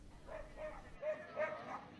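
Dogs at a pet adoption gathering in Terrassa: a few short, soft barks and yips in a quick series, faint and somewhat distant, with voices in the background.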